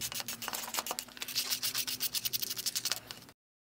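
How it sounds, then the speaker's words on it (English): An epoxy nose cone tip is rubbed by hand with fine sandpaper, giving a close, quick rhythmic scratching of short strokes that stops abruptly at the end. "And then you might want to switch to some fine sandpaper. And then I just do it by hand"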